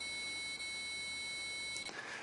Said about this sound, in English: the buzzer turns into a continuous tone